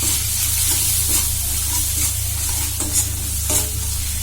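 Turmeric, salt, cumin powder and green chili being stirred into frying small fish curry, a loud continuous sizzle with scraping strokes of the spoon throughout, close up and with no voices.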